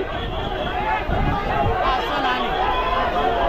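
Dense crowd chatter and babble at a gate during a Ganpati Aagman procession in Mumbai, a steady loud hubbub of many overlapping voices throughout.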